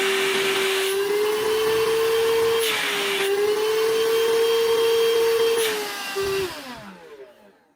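A VacLife VL726 handheld vacuum cleaner runs during a suction test with a loud, steady motor whine, briefly wavering in pitch, then spins down and fades out near the end.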